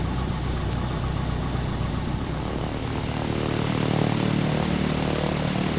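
A Cessna propeller engine idles steadily at low RPM in the A2A Cessna for FSX, a continuous droning rumble at even loudness, swelling slightly as throttle is added, with no talking.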